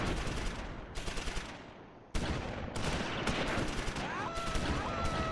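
Rifle and machine-gun fire crackles in the Close Combat IV war game, with bursts of rapid shots in several overlapping volleys, cutting in and out with brief gaps.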